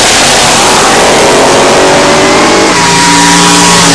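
Bracket drag racing car accelerating hard, a very loud, close engine roar rising in pitch and filling the whole stretch, heavily saturated and alone.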